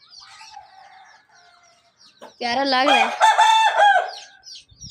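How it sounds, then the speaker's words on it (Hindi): An agitated rooster gives loud, harsh clucking and crowing-like squawks in a burst midway, close by, after softer calls, with a person talking briefly in the background. "वरना ये इतना गुस्से वाला मुर्गा नहीं है"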